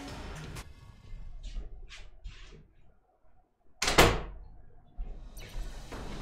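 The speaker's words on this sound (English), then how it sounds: "I gotta close my door." A door swung shut indoors with a single loud, close thud and rattle, set among quieter room noises and a short stretch of near silence before it.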